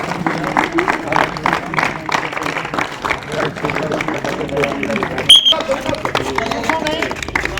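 A group claps hands in a steady, continuous rhythm during a police SDRF disaster-response training drill, the claps dense and close, with voices audible underneath.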